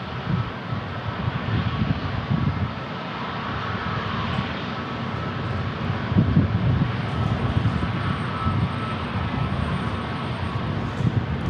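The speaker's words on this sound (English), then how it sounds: "Another Southwest Airlines taking off here on runway 27." A Southwest Airlines airliner takes off on runway 27 at San Diego International Airport, its engines producing a loud, continuous broadband roar that swells slightly midway and stays steady, heard alone without voices.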